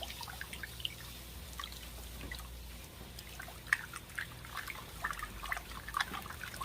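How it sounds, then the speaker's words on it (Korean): Salt being stirred into warm water for kimchi brine, with soft sloshing and scattered drips and clinks of the liquid moving in a container. "만지면 따끈할 정도로 따뜻한 물이에요. 그래야지 소금이 잘 녹거든요. 잘 저어주세요."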